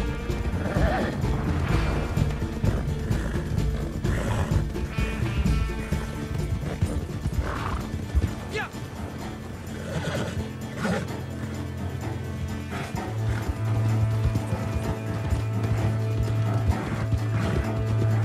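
Horse hooves clip-clop and a horse whinnies amid busy game sound effects and crashes in Red Dead Online, with a low steady drone in the latter half.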